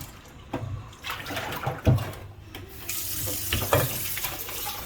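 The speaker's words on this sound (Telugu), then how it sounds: "రెండు సార్లుగా కడిగేసి చాలులే" Prawns being washed under running tap water in a kitchen sink, a steady splashing gush with hand movements and a few clunks against the bowl, close by and without talk.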